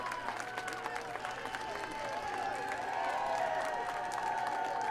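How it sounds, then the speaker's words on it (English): A stadium crowd at a women's college soccer match applauds an injured player getting back up, a steady wash of distant clapping with a faint whistle-like tone and some crowd noise underneath. "And a nice round of applause for Arndt as she gets to her feet."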